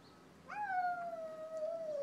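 A single long, drawn-out meow from a cat, rising then slowly falling, close and clear against a quiet room.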